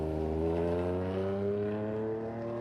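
Electric cars, including an Audi Q8 e-tron, pulling away on a highway range test, heard as a steady, smooth whirring drone that holds close and level without gaps.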